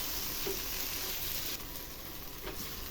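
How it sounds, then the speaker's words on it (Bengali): Tomato fries with spice paste in a pan for Bengali chicken kosha, giving a continuous close sizzling hiss with a few faint soft stirring sounds. "এই স্টেজে টমেটো দিয়ে দেবো। টমেটোটাকে মশলার সঙ্গে ভালো করে কষিয়ে নেব।"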